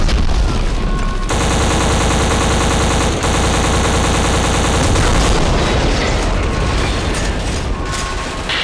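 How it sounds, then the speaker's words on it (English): Loud, sustained machine-gun fire with booming explosions from a shooter video game on Xbox One, rapid rattling bursts running almost continuously throughout with brief breaks in the barrage. "that's a lot of gun sound"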